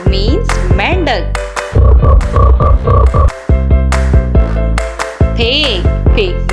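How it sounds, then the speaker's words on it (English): A frog croaks in a children's animal-names lesson, with repeated harmonic croaks set over a bright musical backing that runs throughout. "Frog. Frog means mendak."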